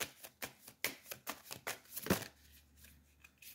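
Tarot cards are shuffled and one is drawn from the deck, a rapid series of soft, close riffling flicks and taps ending in a single sharper snap, with no voice.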